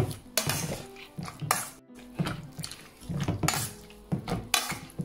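Dates being mashed in a bowl for an eggless cake, with repeated scraping and clattering of a utensil against the bowl in uneven bursts, close and moderately loud, with no talking.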